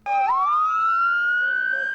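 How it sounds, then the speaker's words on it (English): An emergency siren wails loudly on McFarland Boulevard after a storm, its tone sweeping upward and holding high in a single rising cry, close and clear. "sirens were screaming on McFarland Boulevard"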